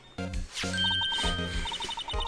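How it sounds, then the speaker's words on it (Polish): A phone rings in the video game Phoenix Wright: Ace Attorney as a quick run of bright, tinkling electronic chimes repeating in short pulses. It plays over game music and sound effects, fairly close and clear. "Jest telefon."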